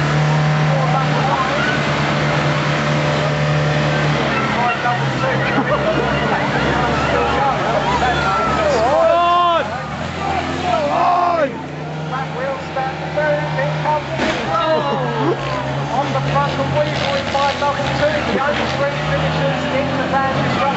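Vans crashing and racing at a Big Van Bangers banger race in Aldershot, loud engines revving and roaring around the track with crowd babble throughout and bursts of excited commentary over the top.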